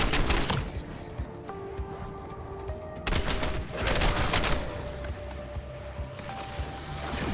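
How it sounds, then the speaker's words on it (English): Shotgun blasts from the Black Ops 7 Zombies video game: loud, repeated booming shots with sharp onsets near 0, 3 and 4 seconds, over a busy game soundscape with steady tonal hums. "It's a shotgun."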